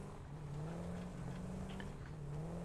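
A vehicle drives and turns in the factory-building game Satisfactory, its engine a faint, steady hum that sweeps gently up and down in pitch as the throttle eases through the turn, with no voices.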